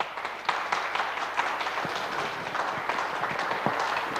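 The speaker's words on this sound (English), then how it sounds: "Round of applause, please, for your third place man, Alex Sadler." Steady applause from a crowd at a racing prize-giving for third place, dense and continuous clapping throughout, with a faint voice underneath.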